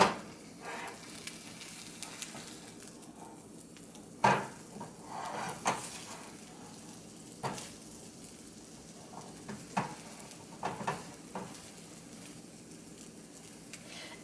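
Eggs frying in a pan on a home stove, a faint steady sizzle running underneath, broken by occasional sharp clinks and scrapes of a utensil against the pan.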